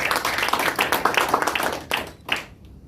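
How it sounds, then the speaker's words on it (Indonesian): An audience at a Surabaya 2020 election media gathering claps and applauds steadily, a dense patter of many hands that thins and fades out toward the end. "Tepuk tangan untuk Pak MA."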